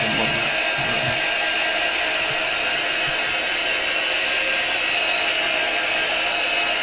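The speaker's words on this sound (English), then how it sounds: "I'm going to give that a quick blast with the dryer." Craft heat dryer blowing onto a mixed media canvas, a steady loud broadband whoosh and hum running unbroken from start to finish, with no talk over it.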